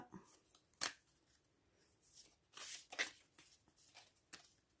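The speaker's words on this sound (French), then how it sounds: "On va mélanger nos petites cartes messages aussi." Oracle message cards being shuffled by hand, several short crisp riffling bursts with quiet gaps between them, close and fairly faint.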